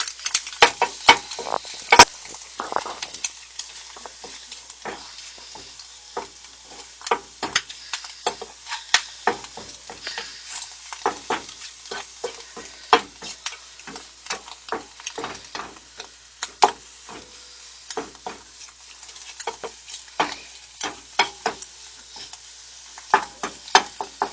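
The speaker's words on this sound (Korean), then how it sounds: "흑설탕이 녹을 수 있도록 잘 저어주세요." Brown sugar is stirred in a pan over heat to melt it, with quick irregular scraping ticks and a soft sizzle running steadily throughout, close up and with no talk.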